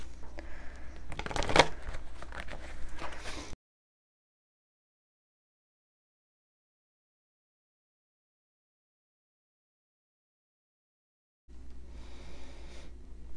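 Tarot cards are shuffled close up, a short burst of papery riffling and slapping, then a long stretch of silence before quieter rustling resumes near the end.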